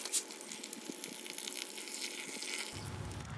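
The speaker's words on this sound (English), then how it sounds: "go ahead and add in evaporated milk" Evaporated milk streams into a skillet set over hot coals outdoors, a steady quiet liquid pour with a soft hiss, alone with no talk.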